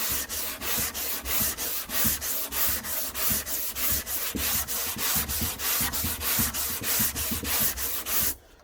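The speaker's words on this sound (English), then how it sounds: "I'm just going to keep sanding that down now" Rhythmic hand sanding on a Range Rover body panel, steady back-and-forth rasping strokes about twice a second, close and loud, then stopping.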